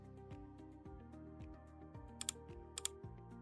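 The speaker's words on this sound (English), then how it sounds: "Click anywhere on the page and start typing." Keys on a computer keyboard tapped at a steady pace while a short note is entered on a page, clicks close and fairly quiet with a couple of sharper clacks near the end.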